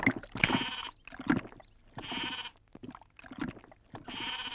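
A goat bleats repeatedly, four wavering calls spaced about a second apart, clear and fairly close with quiet gaps between.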